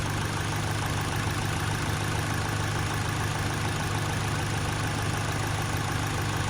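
A car engine running on BRC LPG gas equipment idles steadily with a low continuous hum, a constant close drone with no talk.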